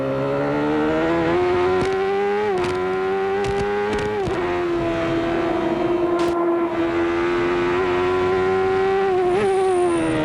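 Onboard sound of a 1993 CART Indy race car lapping Elkhart Lake: a loud, continuous high engine scream, dipping briefly through gear changes and braking before climbing back to full revs.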